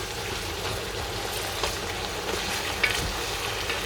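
Pork shoulder ribs fry in a pan for a sweet-and-salty dish, giving a steady, close crackling sizzle with a few small pops and spatters throughout.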